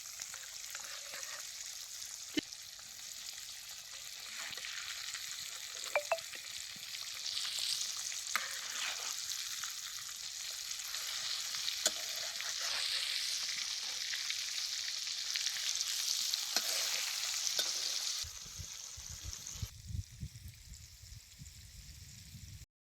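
Coated fish pieces frying in hot oil over a low flame, giving a steady, dense sizzle and crackle that runs continuously up close, shifting slightly near the end.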